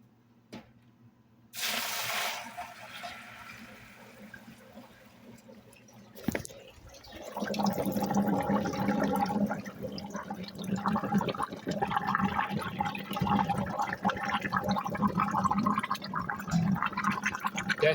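Water is poured into a homemade recycling system and filters through gravel, first a brief splashing pour, then a steady gurgling, trickling flow that continues close by.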